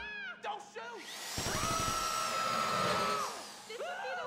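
Drilling during a heist in GTA V Online: a steady mechanical whine with a low grinding rumble sets in about a third of the way through and holds at even loudness, with brief speech-like sounds before it and after it fades.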